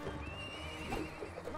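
A horse whinnies inside the medieval combat game Mount & Blade Warband, a steady neigh running under dense in-game battle noise and low rumble throughout.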